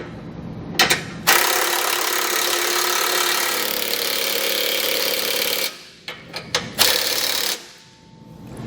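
A power impact tool snugs down hardware on a Roadmaster crossbar-style base plate on a 2014 Ford. It gives a long, loud, continuous buzzing whir, then several short bursts close by before it stops.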